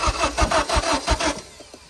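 A 2009 Honda Civic engine cranks in a rapid, rhythmic chugging of starter strokes, then fades toward a few faint catches near the end without clearly firing up; the sound is close and steady, with no talk.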